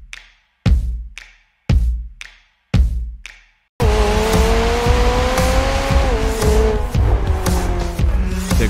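A McLaren 765LT with a quad-outlet exhaust fires off four sharp, separate revving bursts, then holds a loud, continuous high-pitched scream as the engine climbs the RPM range, with faint tyre-like squeals over the top.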